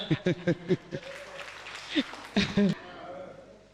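Church congregation applauding and cheering to acclaim the Lord during a worship teaching, with raised voices and shouts mixed into a short burst of clapping at moderate loudness.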